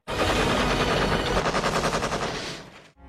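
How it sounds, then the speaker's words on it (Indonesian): Rapid automatic gunfire from a war film scene in which helicopter soldiers fire back at an enemy sniper: a loud, dense burst of close machine-gun shots in fast rhythm that cuts off abruptly. "Tentara yang berada di heli kemudian melakukan serangan balasan ke arah sniper musuh"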